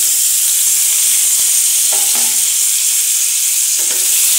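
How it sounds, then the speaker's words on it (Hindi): Pineapple frying in a pan with dry fruits that were first toasted golden, a loud steady sizzle and hiss throughout with a few faint stirring scrapes. "अब मैं इसमें पाइनएप्पल ऐड कर रही हूँ"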